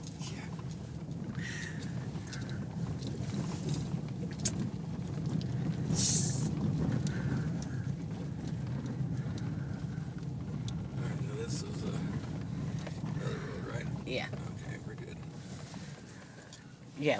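A pickup truck drives down a rough off-road mountain road on Fall River Road, its low engine rumble and jostling steady under occasional faint, indistinct voices inside the cab.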